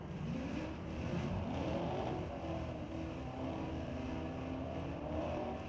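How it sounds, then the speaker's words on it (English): A Chevy Camaro and a Ford Mustang launch off a drag strip start line with wheel spin, producing a continuous, distant roar of revving engines and tire noise at a street-legal drag night, steady throughout with no talk. "Camaro getting a bit of wheel spin on the start line"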